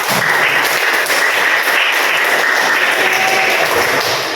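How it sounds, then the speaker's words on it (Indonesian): A classroom of high school students applauding after group presentations, a dense burst of clapping that stays loud and even throughout. "Oke, kita berikan aplaus dulu."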